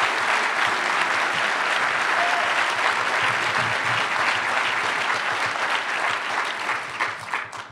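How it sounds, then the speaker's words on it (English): A lecture audience breaks into loud, dense applause that holds steady from the start and begins to thin out near the end. "I actually have to clap for that"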